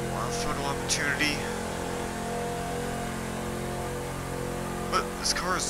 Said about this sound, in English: this car is sounding pretty, it sounds amazing. It's got that nice muscle sound to it